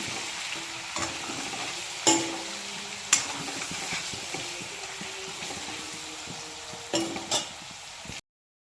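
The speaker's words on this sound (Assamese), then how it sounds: "মই মাংসখিনি ঢাকি কিনি ভালকৈ ভাজি ল'ম মিডিয়াম ফ্লেমত" Chicken meat fries in oil over a medium flame with a constant sizzle. Several distinct clanks and scrapes of a stirring utensil against the pan punctuate the sizzle until it stops abruptly.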